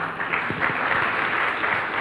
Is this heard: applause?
yes